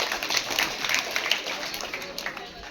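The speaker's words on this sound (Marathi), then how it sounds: "छान. टाळ्या." Children at a school science quiz applaud, a steady patter of many small hands clapping together at moderate volume for a couple of seconds, with faint voices in the room.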